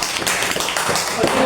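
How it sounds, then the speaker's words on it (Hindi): Schoolchildren applauding in a classroom, a continuous patter of many hands clapping close by with some murmured voices underneath. "तालियां।"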